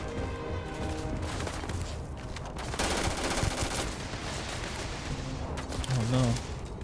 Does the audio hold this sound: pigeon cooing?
no